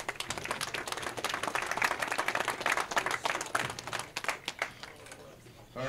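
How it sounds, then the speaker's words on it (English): Applause at a bowling tournament, a moderate crowd clapping steadily before it thins into scattered individual claps toward the end. "give your guys a big hand of applause"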